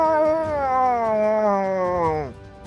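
A human voice imitates a cat crying out: one sustained, harmonically rich yowl lasting about two seconds that bends gradually downward and then drops off sharply at the end.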